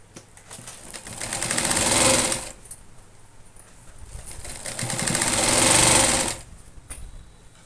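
A sewing machine stitches a cloth bag in two sustained runs of rapid mechanical whirring, each lasting a couple of seconds and separated by a brief quiet pause; no voices.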